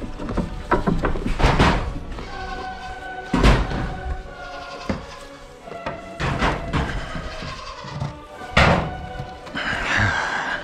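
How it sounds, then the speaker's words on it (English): A goat repeatedly bangs against a wooden stall door during morning feeding, a series of loud irregular thuds and rattling slams, some hard and close, scattered over several seconds amid barn clatter. "You can hear Gummy banging on the door"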